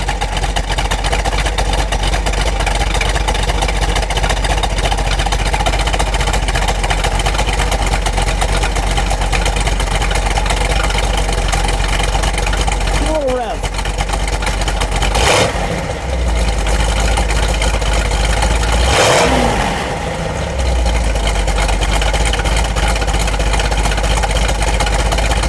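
A 1970 Dodge Challenger R/T with a 440 V8 idles steadily and loudly up close, its dense low rumble holding throughout, with a couple of brief sharper blips around the middle.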